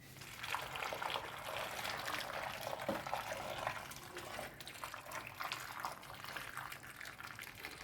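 Hot marinade is poured gently from a non-aluminium pot over plums being pickled, a soft, continuous liquid trickle and splash, quiet and close, with no voices.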